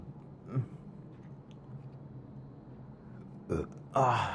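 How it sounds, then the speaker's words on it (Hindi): A man burps a few times after a large meal, soft low belches spaced apart in a quiet indoor space, the last one louder. "डकार आ रही है, खाना ज्यादा खाए थे हम।"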